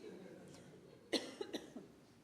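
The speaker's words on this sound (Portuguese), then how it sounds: "Até tossir." A few short, quiet coughs break through a soft background during a church preaching service, spaced across a couple of seconds.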